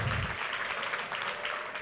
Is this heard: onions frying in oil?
no